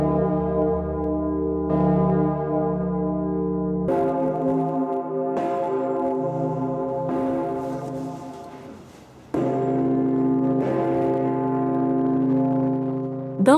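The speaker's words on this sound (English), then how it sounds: "And where you find churches, you find bells." Large church bells in Austria ring out loud and sustained, their deep overlapping tones swelling and restriking every few seconds with long humming decay and no voices.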